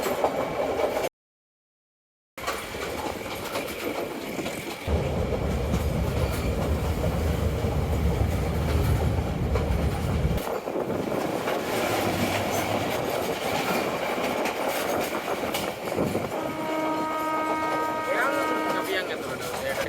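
A train runs along the coastal railway line near Galle, giving a loud continuous rumble with rhythmic wheel clatter on the rails. The sound dips briefly after a short dropout, and a horn-like tone comes near the end.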